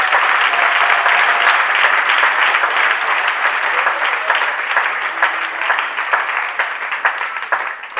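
A church congregation applauds, dense, loud, sustained clapping from many hands filling the room at an even pace, easing slightly toward the end.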